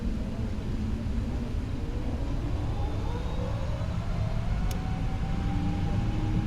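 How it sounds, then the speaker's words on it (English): Jet engines of a PMDG 777F freighter in a flight simulator during takeoff, a steady loud roar with rising whine as the engines spool up and the plane accelerates, continuous and without speech. "I will put up game volume again for you so you can hear how this plane sounds while taking off."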